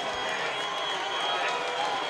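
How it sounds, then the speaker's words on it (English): Crowd noise rises at a high school football game between Coatesville and Garnet Valley, a broad steady roar of cheering from the stands that holds for the full moment at moderate distance. "And the crowd comes alive."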